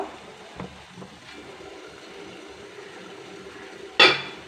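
A metal idli steamer pot, used for idlis set on banana leaf, is opened with a single sharp clank of the lid near the end, after a few soft knocks in a quiet kitchen.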